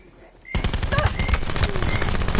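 Rapid automatic gunfire in a video game erupts after a short quiet lead-in, a loud continuous burst of dense shots that carries on to the end.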